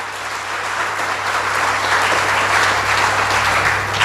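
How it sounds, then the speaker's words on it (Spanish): A church congregation gives loud, sustained applause in praise during a Spanish-language worship service, the clapping swelling slightly and holding steady over a low constant hum. "Denle un fuerte aplauso a nuestro Señor"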